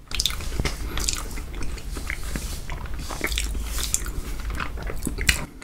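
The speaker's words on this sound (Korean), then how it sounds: "그냥 씹히는 게 너무 맛있어서 아몬드가" Close-up chewing of a chocolate ice cream dessert with almonds, with Snickers, Twix and Nutella, giving moist, crunchy bites and squishy mastication sounds repeating steadily, with no talking.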